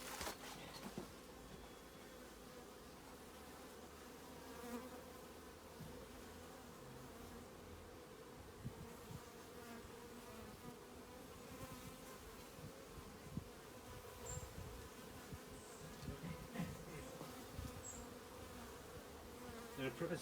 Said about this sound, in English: The bee is very nosy, isn't it?